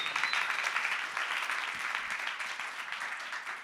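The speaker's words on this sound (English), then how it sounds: "You can applaud for the library." An indoor audience at a New York Public Library talk claps in a sustained burst of applause that slowly fades.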